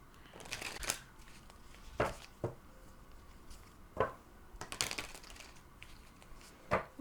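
Tarot cards being shuffled by hand: faint, scattered riffling and tapping bursts, several short sharp clicks at irregular intervals over a quiet room background.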